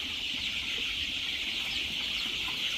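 Chicks of black egg-laying chickens keep up a dense, steady chorus of high chirps, with many birds peeping at once close by and no voices over them.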